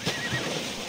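Horse in the Assassin's Creed video game giving a short, breathy whinny close by, a single brief burst over a steady game ambience, with no talking.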